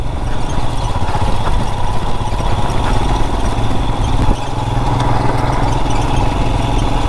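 A motorcycle engine drones steadily and loudly throughout an off-road ride on the route to Fusrey Lake near Kalimpong, with a continuous low rumble and no speech.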